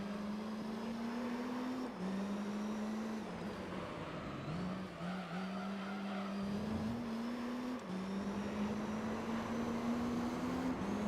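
A race car in Gran Turismo 3 holds a steady, loud engine drone, rising in pitch through each gear and dropping briefly at shifts, constant and alone with no talk.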